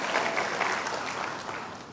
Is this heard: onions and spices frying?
no